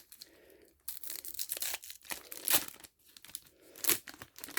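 A Korean Duel Masters booster pack wrapper being torn open, with crinkling foil and sharp ripping bursts in irregular bursts, close and fairly quiet, with brief pauses between handling noises.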